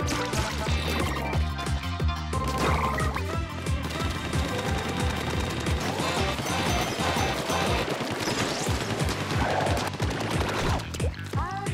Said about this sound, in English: Shoot ink in human form.